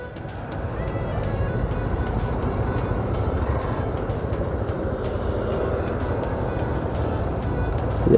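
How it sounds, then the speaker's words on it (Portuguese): Many motorcycles idle together while waiting at a bridge in the north zone of Natal, Brazil, making a steady, dense low engine rumble with no talking. "Muita moto já aqui aguardando."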